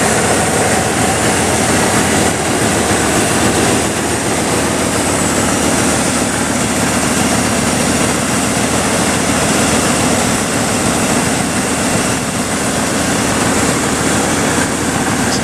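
A 1988 Ford F-350 XLT Lariat Centurion four-door Bronco engine idling smoothly, a loud, steady broadband rumble with an even mechanical roar throughout and no talking.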